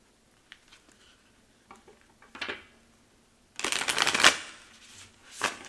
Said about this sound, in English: let's pull one more card.